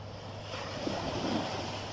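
Sea waves wash in a soft steady roar with wind blowing across the microphone, distant surf swelling slightly.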